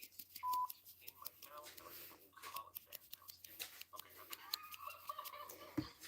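A mobile phone gives a short, faint electronic notification tone near the start and a few more faint tones later, over a quiet room with soft, murmured voices.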